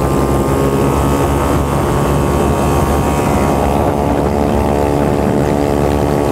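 A fast motorcycle ride along a wide road lined with sugarcane fields near Bacolod, with a passenger on the back. Steady loud engine drone and wind rush fill the whole stretch without a break.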